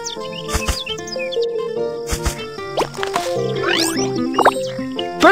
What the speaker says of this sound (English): Birds will destroy the plants. Drive them away!